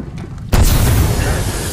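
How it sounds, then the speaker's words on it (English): A grenade explodes in a squad-based shooter game, a sudden loud boom after half a second of quiet that rolls on as a thick, sustained rumble. "Bam. Grenade."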